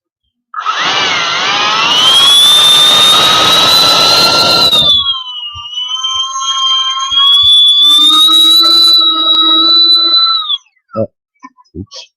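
A custom-assembled electric ducted fan unit spins up into a loud, high whine that rises and then holds with a buzzy edge, drops briefly, surges again, and cuts off into a few clunks.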